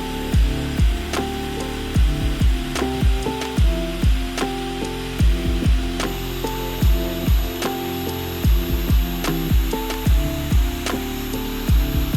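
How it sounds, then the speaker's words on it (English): An oscillating spindle sander shapes the curves of a wooden guitar headstock, giving a loud, continuous motor drone broken by repeated rhythmic rubbing and thumping bursts as the wood is pressed against the spindle, close up, with no talk. "An oscillating spindle sander is perfect for getting into those areas."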